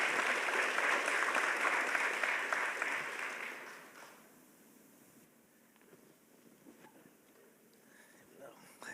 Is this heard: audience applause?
yes